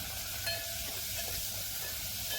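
Cumin seeds, garlic, green chillies and curry leaves sizzle in hot oil as a tempering for kadhi, giving a soft, steady frying hiss that continues evenly without any talking.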